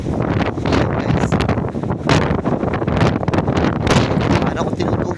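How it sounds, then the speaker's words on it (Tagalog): Strong Storm Eowyn wind roars across an open microphone, a loud, continuous buffeting rumble with gusty surges and rustling, steady throughout. "para ko tinutulak ng hangin"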